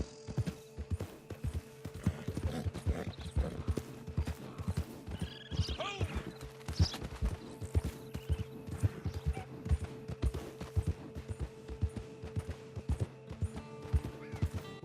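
A horse's hooves clip-clop in Red Dead Redemption 2 Online. A steady close rhythm of hoofbeats runs throughout, with an occasional whinny and creaking tack, and speech is present at times.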